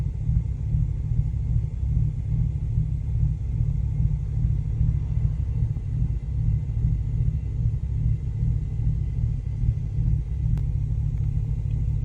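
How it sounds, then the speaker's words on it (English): A Chevy truck engine with suspected bad injectors runs with a heavy, continuous low rumble that surges and fluctuates without pause, close and fairly loud, with a single sharp click near the end. "It's revving."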